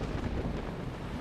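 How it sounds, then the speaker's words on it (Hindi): Thunder rumbling before rain in a Hindi TV drama scene, a deep, loud, continuous roll with heavy low-end texture, heard alone with no voices over it. "बिजली कड़क रही है, शायद बारिश होगी।"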